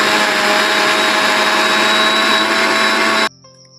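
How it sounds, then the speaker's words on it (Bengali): An electric mixer grinder blitzes bread into breadcrumbs with a loud, steady, high-pitched motor whine that cuts off abruptly near the end, leaving faint clatter. "বন্ধুরা, এটাকে আমরা হালকা করে মিক্সিতে একটা পেস্ট করে নেব।"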